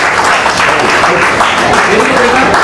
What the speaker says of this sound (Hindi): बच्चों के लिए तालियां बजते रहनी चाहिए।